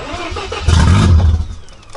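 Mazda RX-7 rotary engine cranking after sitting 23 years, one loud surge of churning low rumble about two seconds long, close up and without speech.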